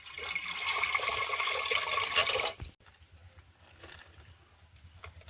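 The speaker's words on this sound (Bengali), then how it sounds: "এবার আমার আরও একটু জল লাগবে তো আমি এটা এক্সট্রা জল দিয়ে দিলাম" Extra water poured into a mix of mango pulp and sugar water, a close steady rushing pour lasting about two and a half seconds before cutting off, followed by quiet faint room sound.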